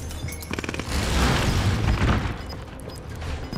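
A frag grenade blows up in a military shooter video game, a deep booming blast that swells and rumbles for a couple of seconds, with crackling bursts leading in and no voices.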